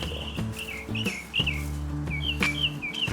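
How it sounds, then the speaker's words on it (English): Birds chirp outdoors in quick repeated tweets, several short bright calls spaced through the clip over a low steady background hum. "Birds outside."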